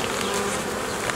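Honeybees from a hive colony being expanded in spring hum densely at close range, a loud, continuous buzzing drone with no voices over it.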